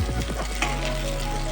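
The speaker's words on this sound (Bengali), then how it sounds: "ডিমটা এই পেঁয়াজের সাথেই ভেজে নেবো, আর আলাদা করে ভাজবো না" A lightly boiled egg fries with onions in a pan, giving a steady close sizzle with a few soft stirring scrapes and no voices.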